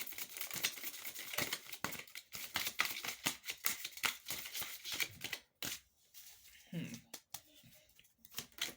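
An oracle card deck is shuffled with rapid papery riffling and flicking, followed by quieter handling as a card is drawn, fairly close and soft.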